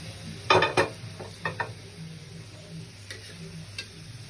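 Masala dal, cooked lentils mixed with chili powder and spices, bubbles in a pan on the stove with a soft steady simmer, broken by a few clattering scrapes and taps of a spoon stirring against the metal.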